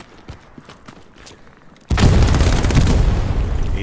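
Inside a video game, scattered faint clicks and pops give way to a sudden huge explosion whose loud, rumbling roar fills everything and keeps going without fading.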